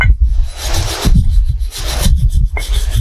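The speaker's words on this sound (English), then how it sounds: "let's get the wire brush on there first" A wire brush scrubs rust off the front hub of a 2014 Ford Explorer, making loud, close, harsh back-and-forth rasping strokes in quick bursts, with no talk over it.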